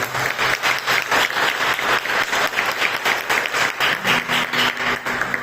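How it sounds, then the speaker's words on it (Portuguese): A church congregation applauding for Jesus during a sermon; loud, close, continuous clapping with a rapid, fairly even pulsing rhythm from many hands. "Dá uma salva de palmas para Jesus."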